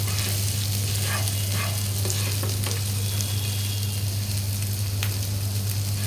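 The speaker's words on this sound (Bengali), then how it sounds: "এখন আমি এটা খুব ভালোভাবে ভেজে নিচ্ছি।" Spiced potato filling for stuffed aloo chop fries in a pan with a loud, continuous sizzle, a few soft stirring sounds scattered through it and a steady low hum underneath.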